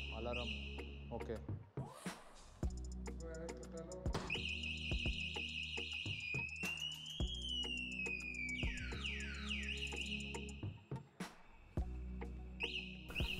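Anti-theft alarm on a Techo Electra Raptor electric scooter, sounding as a loud, continuous electronic siren of warbling, sweeping and repeating beeping tones, close by, with a voice speaking briefly over it.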